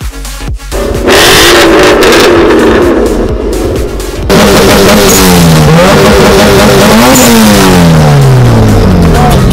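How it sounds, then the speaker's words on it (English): An oversized PIKA truck engine revs repeatedly at a Philippine car show, loud throttle blips rising and falling in pitch after an opening burst, with crowd noise around it. "this is the oversized PIKA truck"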